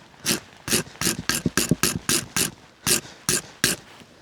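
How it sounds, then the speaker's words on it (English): Zippo flint wheel on a homemade fire starter spun in quick bursts, about a dozen sharp rasping ratchety scrapes in an irregular rhythm, close and clear with short pauses between, no talking. "I'm going to try first to make some sparks."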